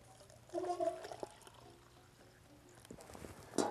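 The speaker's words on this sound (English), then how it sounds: "then you pour in some hot water here that you've already boiled" Pre-boiled hot water pours into a coffee carafe over grounds at a camping setup, a short gurgling pour that starts, pauses, and splashes briefly again at the end.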